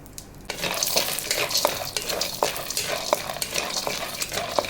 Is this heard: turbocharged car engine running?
no